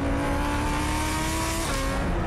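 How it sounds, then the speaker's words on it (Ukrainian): A Lamborghini engine runs steadily and close by, a smooth sustained hum with faint rising harmonic tones, alone without talk. "Та жодна пісня у світі не зрівняється зі звуком і з цим шепотом мотору Lamborghini"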